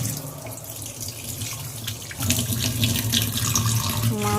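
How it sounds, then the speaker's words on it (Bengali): Tap water runs steadily into a kitchen sink while fish is washed, a close splashing stream that grows louder and fuller partway through, with small clinks near the end. "মাছ ধোয়ার পালা, রান্না করতে হবে।"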